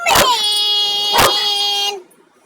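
A pet dog gives two sharp high yips about a second apart, each trailing into a drawn-out whining whimper, close and loud indoors before fading to near silence.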